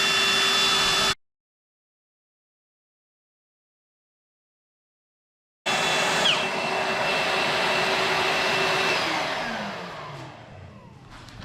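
A plunge router with a template guide cuts a mortise in wood for knock-down joinery: a loud, steady motor whine breaks off into silence, then starts again and slowly winds down at the end.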